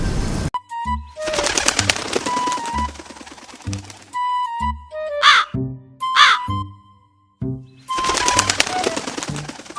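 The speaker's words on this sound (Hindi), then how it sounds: "इतना सुनते ही शिकारी चील कालू कौवे पर टूट पड़ते हैं" Crow cawing in a Hindi cartoon story, harsh repeated caws in bursts with gaps of near silence, alongside sharp rattling effects and brief high squawks.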